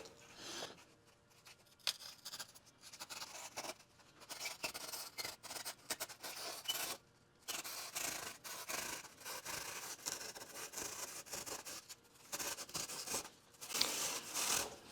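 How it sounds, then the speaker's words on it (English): A fine-toothed handsaw cuts through a model train tunnel piece with steady, close rasping strokes in an uneven rhythm, with brief pauses between bursts and no talking. "I'm using a different handsaw than the first one because this one has finer teeth"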